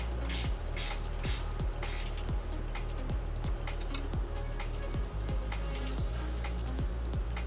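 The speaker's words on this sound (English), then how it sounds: "Tighten down the clamp." Ratcheting clamp being tightened on the charge pipe of a Polaris RZR Pro R Turbo, a steady run of rapid mechanical clicks repeating close up with a constant hum underneath and no talking.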